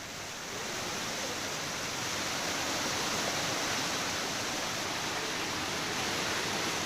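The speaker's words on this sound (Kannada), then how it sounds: "ಹಳ್ಳ ಕೊಳ್ಳಗಳು ಈ ರೀತಿಯಲ್ಲಿ ಧುಮ್ಮಿಕ್ತಾ ಇದ್ದಾಗ" Swollen streams and gullies overflowing after heavy monsoon rain in Karnataka, rushing and roaring as a steady, loud, dense wash of water noise with no let-up and no voices.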